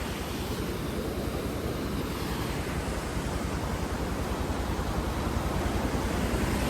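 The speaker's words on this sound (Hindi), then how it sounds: "इस पानी का बहाव देखिए, काफ़ी बहाव है बारिश की वजह से" Steady, loud rushing water of a rain-swollen stream with a constant broadband roar and no pauses or voices, near Virval, Dharampur, Valsad, Gujarat.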